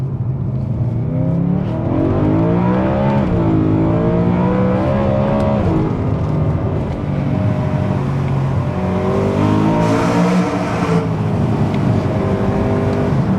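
BMW E92 M3 engine pulling steadily while the car drives, a continuous, loud drone with rising and falling harmonic tones as revs change, close up and with no talking.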